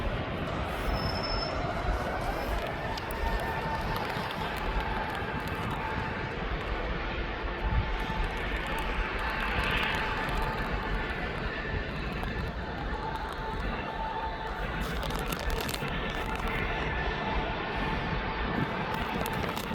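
A jet airliner departs for Ibiza with a distant, moderately quiet engine roar, mixed with faint squeal-like tones and a brief rising whine near the middle. No voices can be heard.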